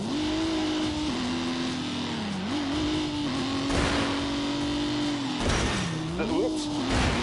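A 2.5 litre V6 with twin plate clutch runs in a car, a steady engine drone that rises and dips as the throttle changes, with a voice speaking over it.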